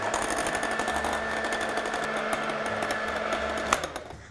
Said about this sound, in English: we need to whisk the egg yolks until smooth